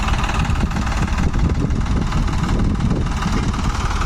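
A New Holland tractor on 16-inch tyres, hitched to a heavily loaded trolley, runs its engine in a loud, steady low rumble close by, with no voices.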